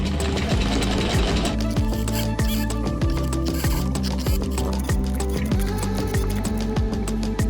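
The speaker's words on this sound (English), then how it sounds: "this is the sewing machine that I work on" A trusty old sewing machine used for sewing parts of an Airstream trailer restoration runs steadily and close up, with a rapid, even needle clatter and a low motor hum, and no one talks over it.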